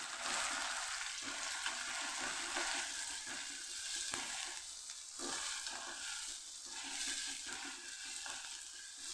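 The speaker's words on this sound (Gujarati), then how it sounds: "અહીંયા આપણે હવે ટમેટું ઉમેરી દઈશું અને સરસ આપણે સાતડી લઈશું" Chopped tomato sautés with onions in a frying pan, giving a continuous sizzle and crackle broken up by repeated stirring scrapes of a spoon against the pan.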